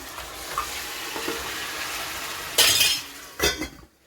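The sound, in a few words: mutton frying in a pot with sautéed onions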